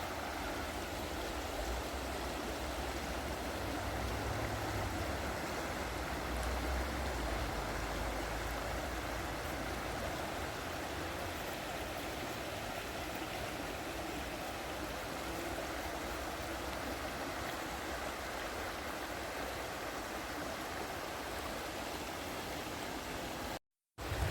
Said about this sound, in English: Maybe just stop for a few seconds just to listen to the water itself.